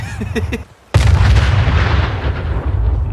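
An artillery strike in the Fallout 4 video game: a few short tonal calls, then a sudden loud boom that rolls into a long, sustained rumbling roar of explosions.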